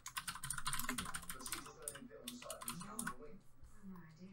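Rapid clicking of keys on a computer keyboard, typed close up in quick bursts while a person talks over it.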